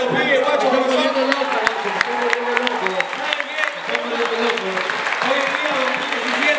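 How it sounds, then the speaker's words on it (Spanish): Crowd applause at a freestyle rap battle exhibition in 2017, with dense clapping and cheering from a large audience, loud and sustained, and voices shouting over it. "Un aplauso para los pibes"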